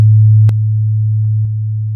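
A low synthesized sine wave from the Web Audio API hums loud and steady, with faint clicks where its pitch setting changes, alone without speech.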